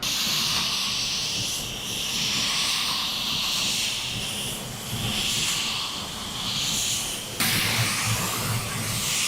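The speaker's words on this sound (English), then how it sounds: "I'm gonna put one coat on now, a wet coat" Spray gun applying a wet coat of silver metallic paint, a steady, loud hiss of air and atomized paint that swells and fades slightly as the gun passes over the panel.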